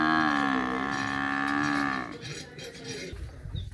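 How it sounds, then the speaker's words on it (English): A buffalo moos loudly and close by in a farming village, one long sustained harmonic call lasting about two seconds before it cuts off, leaving quieter outdoor rural background noise. "That's a buffalo mooing."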